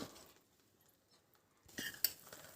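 Spoon scraping and clinking against a pan while stirring halwa as ghee is added spoon by spoon; quiet, soft rustling at first, then a brief louder burst of scraping with a sharp metallic clink.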